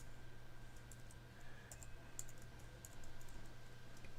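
Soft, faint keystrokes on a computer keyboard as the word empathy is typed, a sparse run of light clicks in small clusters over a steady low electrical hum.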